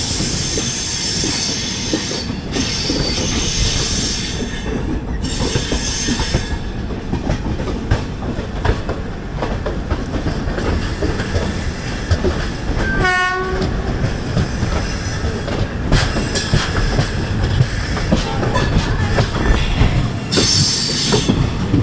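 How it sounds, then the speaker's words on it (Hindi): A local train hauled by a WAP4 electric locomotive rumbles past at close range in India, with continuous clattering wheels and metallic squeal, and a horn sounds briefly midway through the long pass. "WAP4 का लोकोमोटिव के साथ कोई तो लोकल ट्रेन है जो आ रही है अभी"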